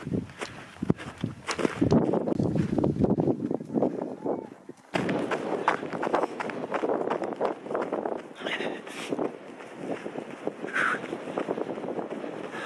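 Gusty wind on a mountain ridge of Mont Ventoux buffets the microphone in rough, uneven bursts, with crunching trail-running steps and rustling underneath, a brief drop midway before the blustery noise resumes.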